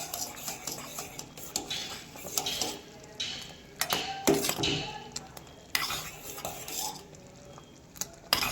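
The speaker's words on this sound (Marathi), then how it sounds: "हलवत राहायला लागतं सारखं." A spoon scrapes and clinks around a pot of mixed vegetable soup, irregular stirring strokes close by over a faint background hiss, with no talking.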